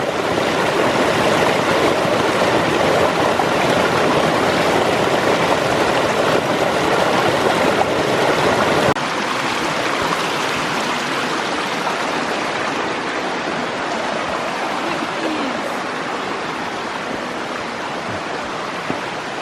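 Creek water flowing near a waterfall beside abandoned farmhouse ruins, a loud, steady broadband rush that continues for the whole stretch, softening slightly partway through.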